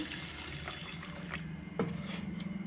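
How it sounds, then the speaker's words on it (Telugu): Tap water pours into a bowl holding a cup of black-eyed pea lentils (bobbara pappu), a steady splashing gush that turns to a rising gurgle as the bowl fills. "ఇప్పుడు వాటర్ నిండుగా వేసుకోండి"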